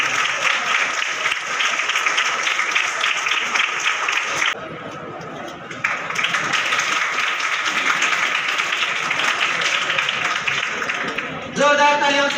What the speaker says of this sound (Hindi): जोरदार तालियों से इसकी हिम्मत अफजाई की जाए